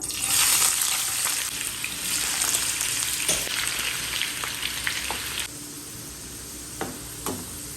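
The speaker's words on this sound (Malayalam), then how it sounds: "നമുക്ക് ഈ പാത്രത്തിൽ തന്നെ നമ്മുടെ ഫ്രഞ്ച് ഫ്രൈസ് പൊരിച്ചെടുക്കാം" Potato french fries, soaked in salt water beforehand, frying in hot oil in a pan, giving a steady loud sizzle and crackle with a few brief stirring clicks near the end.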